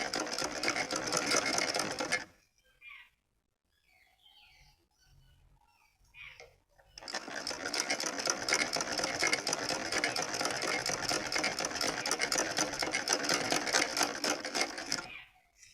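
A sewing machine stitches the open edges of a small full-sleeve winter outfit for a Laddu Gopal idol, running in two long bursts of loud, rapid mechanical clatter with a short quiet pause between them.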